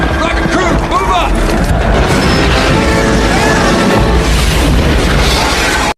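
Rockets fired at giant insects in a war film battle, a dense roar of booms and blasts continuing loud throughout, with voices mixed in under the barrage.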